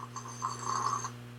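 A person imitates one drawn-out snore, soft and close, rising and fading over a steady low hum.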